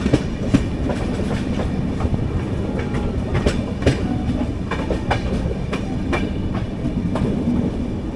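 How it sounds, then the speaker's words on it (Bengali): The Puri Shalimar Superfast Express (12888) rolls past at close range, its wheels beating a steady clickety-clack with sharp rail clanks over a loud, continuous rumble. "মৌগ্রাম দিয়ে ওই সাইড দিয়ে ঢুকলো ট্রেনটা"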